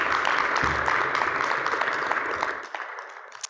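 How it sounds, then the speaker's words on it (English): An audience applauds as a speaker is welcomed to the stage for a talk: steady, dense clapping that is loud at first, then fades out near the end. "let's give her a round of applause"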